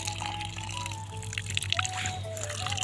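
Water running from a village water pump, a steady trickling and dripping flow with faint tonal whistles over it, moderately close and continuous.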